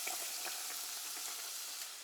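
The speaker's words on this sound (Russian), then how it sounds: "Добавляем бурлящее масло." Hot oil bubbling and sizzling steadily in a pan while batter is fried at home, a dense continuous crackle close by with no voices.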